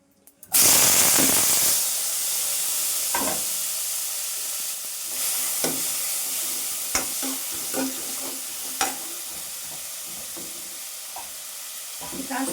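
Ginger, garlic and tomatoes frying in a pan for palak paneer give a loud, steady sizzle with scattered spatula scrapes and stirring knocks, heard alone without talk.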